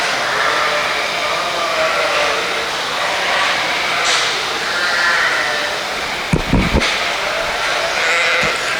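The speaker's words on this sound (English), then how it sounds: "Really nice class of yearling ewes here." Yearling ewes bleat steadily at a sheep show, a dense, loud chorus of overlapping calls across a crowded barn with a brief knock partway through.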